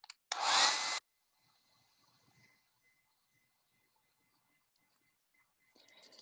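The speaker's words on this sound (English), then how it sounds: "So I'm going to try using my blow dryer again." A blow dryer bursts on loudly for about a second with a strong, close whooshing blast of air, then cuts off into near silence before faint rustling returns.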